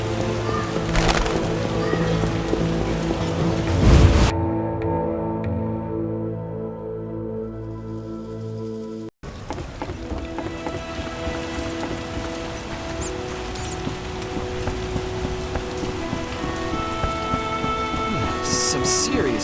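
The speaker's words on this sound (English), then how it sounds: "Hasn't rained hard in a while." Steady rain in The Witcher video game hisses throughout with a low rumble, briefly dropping to a quieter patch before the downpour returns, full and close.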